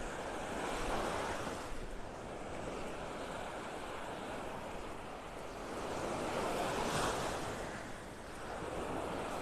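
Waves wash onto a quiet beach in North Naples, Florida, a soft continuous surf that swells and recedes under steady wind noise, with no voices.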